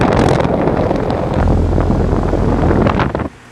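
Steady, loud broadband roar from a 2008 3-ton Goodman air conditioner with a replaced compressor running outdoors, heavy and close with wind-like rushing, cutting off abruptly near the end.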